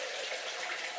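Water is poured into the cooking pot of a Cookeo multicooker, a brief, steady, hissing gush heard close up and on its own.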